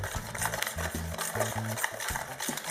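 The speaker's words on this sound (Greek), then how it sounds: "Ανακατεύουμε καλά να διαλυθούν τα αυγά μαζί με τη ζάχαρη." Eggs and sugar are stirred in a bowl, a steady rhythmic scraping and rattling of a utensil against the bowl, close and continuous throughout.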